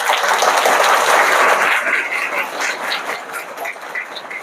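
School students clap together for their parents in a dense burst of applause that is loudest at first and then thins out gradually.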